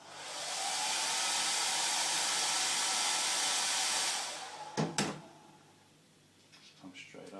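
A heat gun blows steadily on vinyl wrap over car trim for about four seconds, a loud even rushing airflow, then cuts off, followed by a few light clicks and handling knocks.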